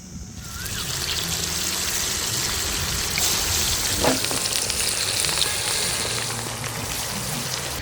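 Chicken 65 pieces frying in hot oil in a kadai, a dense, steady sizzle and crackle running throughout at close range, with a few sharper pops mid-way and no talk.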